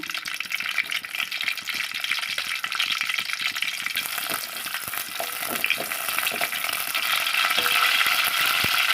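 Onions frying in hot oil for a coconut-free chicken sherva, a steady close-up crackling sizzle with occasional stirring scrapes, growing slightly louder and denser in the second half.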